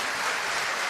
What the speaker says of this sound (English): Thank you very much again to the Tümata team for your big applause.